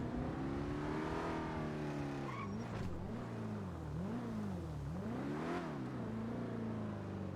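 A car engine in GTA V revs up and down repeatedly, a loud, close, wavering whine that rises and falls several times with no talk over it.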